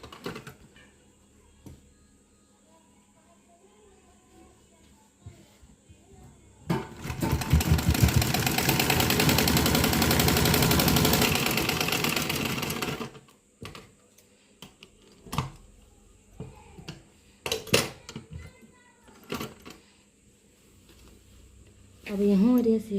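A sewing machine stitches the folded edge of a dhoti salwar, running in one loud continuous burst of several seconds, with quieter handling clicks and bits of talk before and after.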